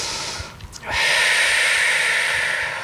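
During a yoga session in tabletop position, a person draws a short, sharp breath through the nose, followed by a long, steady breathy exhale close to the microphone.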